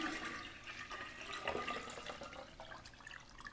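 Water is poured to fill a ceramic water filter, a continuous splashing, trickling stream that runs steadily for a few seconds at close range.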